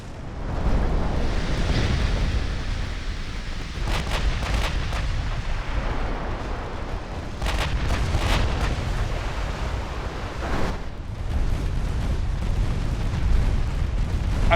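Warship guns fire in a naval battle in Ultimate Admiral Dreadnoughts, with rolling heavy booms and repeated clusters of sharp blasts over a constant rumbling din.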